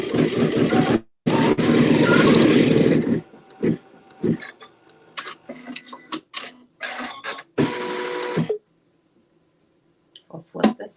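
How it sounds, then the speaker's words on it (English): A home sewing machine stitches a seam joining blue quilt fabric right sides together, running in a loud steady burst near the start and then in shorter stop-start bursts amid fabric handling. "Stitch my seam."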